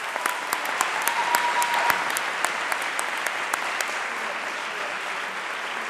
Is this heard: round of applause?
yes